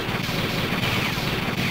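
Rapid gunfire from the video game Spinal Breakers, a dense, loud burst of automatic shots that fills the whole short clip with no talk over it.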